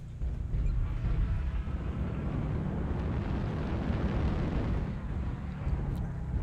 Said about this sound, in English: Airstrike online. Warning, incoming missile.